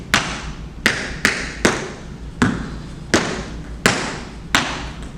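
Tap shoes strike a hard floor in a repeating heel, grind, spin, step pattern, producing about nine crisp, sharp percussive hits at a steady, slightly uneven rhythm.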